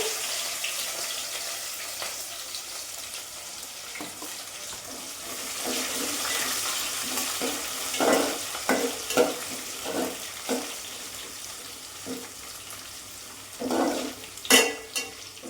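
Dried prawns frying in a pan for a gongura curry, with a steady hiss of oil throughout and several scraping, clattering stirs of a spoon toward the end.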